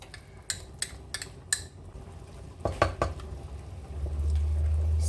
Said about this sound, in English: Start mixing it.